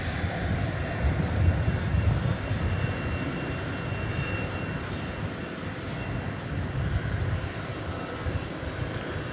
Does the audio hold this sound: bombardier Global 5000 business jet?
yes